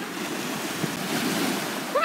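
Waves wash onto a rocky shore at Clevedon or Portishead, a steady rushing surf blended with wind noise on the microphone, fairly loud and continuous with no voices.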